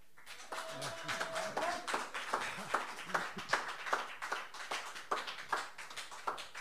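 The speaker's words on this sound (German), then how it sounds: "Es gibt nochmal einen kräftigen Applaus." Concert crowd applauding a rock band, sparse individual claps standing out as sharp distinct hits over a thinner spread of clapping, fairly close and lively.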